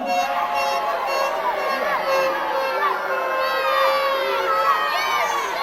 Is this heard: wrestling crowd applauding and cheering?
yes